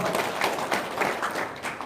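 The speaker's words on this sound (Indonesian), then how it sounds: "Wow, tepuk tangan dong." A short burst of clapping and applause from a small audience at an Indonesian talk, moderately loud and steady for about two seconds.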